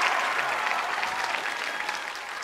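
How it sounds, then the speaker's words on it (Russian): Steady applause from an audience in a school concert hall, a dense even wash of clapping that holds for a couple of seconds with no voices over it. "если бы они были, они бы аплодировали вот например"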